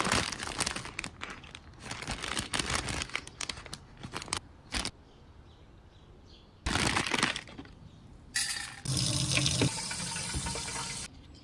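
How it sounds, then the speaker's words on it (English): Water splashes and trickles onto soil in potted houseplants, in several bursts of pouring separated by quiet pauses, with a few crinkling rustles between them. "Now I like to water her first before I lay on the bed of moss, just to kind of dampen the soil."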